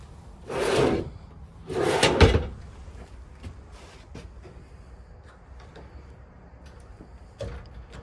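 Storage drawers in a 2015 Forest River Flagstaff V Lite travel trailer slide open and shut twice with rumbling wooden rolls, followed by lighter knocks and clicks at moderate distance.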